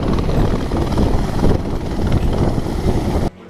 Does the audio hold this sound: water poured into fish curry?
no